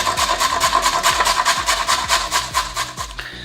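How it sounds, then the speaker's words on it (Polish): A carrot rubbed on the coarse side of a box grater, repeated rasping strokes in a steady rhythm, close and fairly loud, with no talking. "Marchewkę na grubych oczkach, normalnie na tarce, musimy to zetrzeć."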